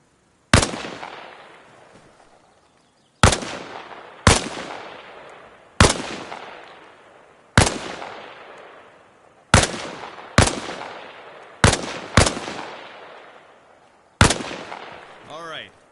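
Ten sharp gunshots from a video game weapon, fired while leaning out from behind a wall, ring out one at a time at irregular intervals, each loud and close with a decaying echoing tail.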